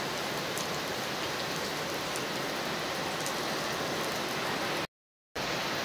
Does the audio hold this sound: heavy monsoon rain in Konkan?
yes